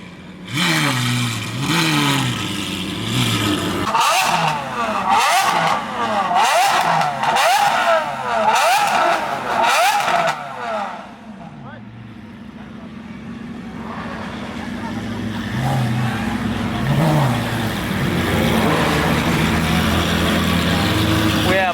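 Lamborghini Aventador and SVJ V12 engines rev in sharp, loud bursts close by, then settle into a steady engine drone as the cars pull away. A voice talks over the engine noise.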